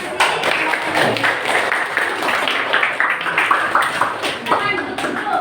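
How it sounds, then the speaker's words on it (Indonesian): A room full of people clapping steadily, with scattered sharp claps and some voices mixed in throughout. "mari kita tepuk tangan untuk kelompoknya"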